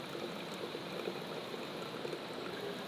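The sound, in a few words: water flowing through a Katadyn BeFree 3-litre filter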